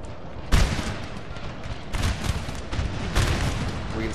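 Cannon and musket fire in the video game Napoleon: Total War, with several booming shots and crackling volleys over a continuous distant battle rumble, the heaviest blasts coming at intervals.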